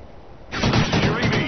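Video game gunfire erupts suddenly and keeps going as a dense burst of rapid shots, loud and close, with speech-like chatter mixed underneath.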